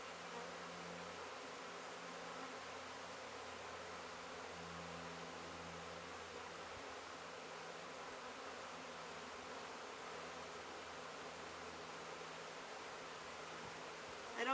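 Honeybees buzz continuously around an open hive as the inner and outer covers are eased back on, a steady, fairly faint swarm drone with soft rustling beneath it.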